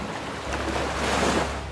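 Ocean surf rolls onto a Konkan beach with fishing boats nearby, a broad, steady wash of waves that swells to a louder crest near the end, with wind buffeting the microphone.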